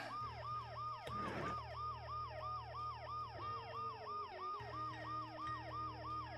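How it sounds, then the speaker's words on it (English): A wailing ambulance siren in the video game Dead Synchronicity cycles up and down in a fast, repeating pattern, loud and close, with a brief burst of noise near the start. "The noise the ambulance makes will cover the sound of the glass breaking."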